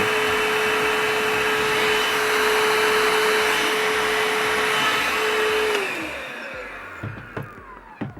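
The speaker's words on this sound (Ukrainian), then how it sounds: "Ось такий пилосос в мене сьогодні на огляді." An Einhell TE-HV 18/06 Li cordless battery vacuum cleaner runs with a loud, steady whine, then winds down and stops, leaving a few faint clicks and knocks afterward.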